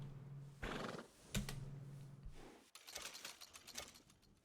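A horse in the video game Red Dead Redemption 2 gives a clear, loud whinny, followed by a sharp snort and a quick patter of hoof clops.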